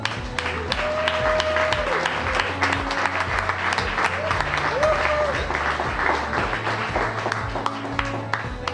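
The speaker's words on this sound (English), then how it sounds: "A big round of applause for Fidelity International." Applause from an audience at a Latin night charity event, with dense sustained clapping at close to moderate distance that goes on throughout, while music tones and some voices come through underneath.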